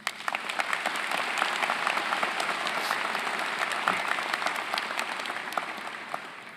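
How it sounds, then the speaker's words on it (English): A high school commencement crowd claps in a thick, even round of applause that holds steady for several seconds before thinning slightly at the end, with no voices over it. "Can we please give them a big round of applause?"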